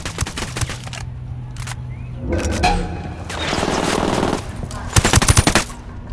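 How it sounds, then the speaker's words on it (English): Bursts of submachine gunfire in Ghost Recon Wildlands, loud rapid automatic volleys repeating across the scene with a final sharp burst near the end, plus rumbling game ambience in between. "We're shooting everything just to scare off the VIPs and get Carzita back here."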